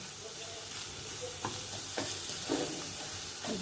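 Spices for a lobia (black-eyed pea) dish fry in a pan with a continuous close sizzle, broken by several scraping stirs of a spoon.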